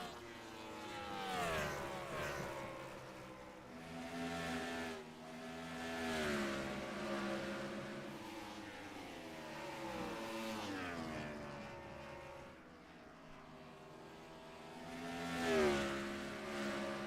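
Simulated ARCA stock car engines lapping Richmond Raceway in iRacing practice, with rising and falling revs sweeping through gear changes and a moderately loud, continuous drone across repeated corner entries and exits.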